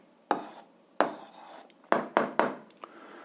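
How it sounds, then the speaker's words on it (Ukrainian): Pen or chalk strokes write out an answer to an algebra exercise by hand, five or six sharp scratchy strokes with short gaps, fairly close and clear, no speech over them. "записуємо відповідь, пишемо відповідь"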